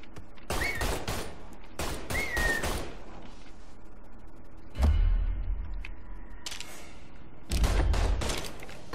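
Gunfire rings out in the video game Mafia III as loud sharp shots in short bursts, with heavy booms around five and seven and a half seconds, close and punchy.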